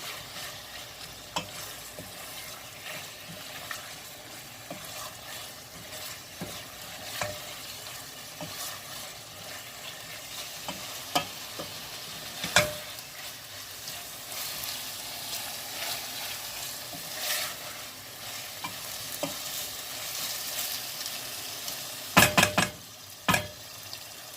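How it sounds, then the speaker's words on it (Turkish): Mushrooms stirred in a frying pan for a béchamel dish, a steady soft sizzle with scraping spoon strokes and occasional clinks, close and moderately quiet, with no talking. "Bunları da güzelce karıştıralım."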